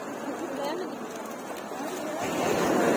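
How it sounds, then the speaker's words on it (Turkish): Rough Black Sea waves break on the shore at Güzelcehisar, Bartın, making a steady, moderately loud wash of surf with wind noise and no voices. "Şöyle Karadeniz'in hırçın dalgalarıyla sizleri bir süre daha baş başa bırakalım."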